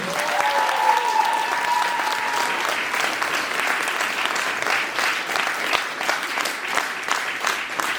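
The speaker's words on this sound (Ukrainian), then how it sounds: "Ваші оплески!" A festival audience claps loudly at a closing ceremony, with dense sustained applause filling the space throughout. A whistle-like tone rises briefly near the start.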